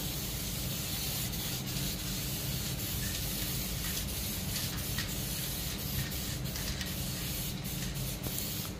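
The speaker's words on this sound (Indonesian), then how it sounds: "Penyemprotan kita semprot tipis terlebih dahulu secara merata." Diton Premium aerosol paint sprays in a steady, continuous hiss from a can held close, laying a thin even coat, with faint rubbing and clicks underneath and no talk.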